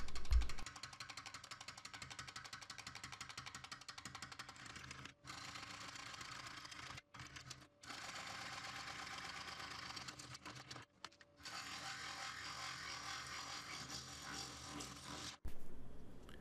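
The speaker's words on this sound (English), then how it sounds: "I'm marking out my reference grooves where I'm going to cut in a little teeny groove every 1/2 inch" A wood lathe cuts small reference grooves into a turned round blank for a segmented woodturning gluing jig, giving a steady mechanical whirring drone with brief dips and pauses and no talking.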